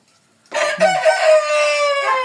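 A chicken crows loudly and close by in one long, drawn-out call with no other sounds around it.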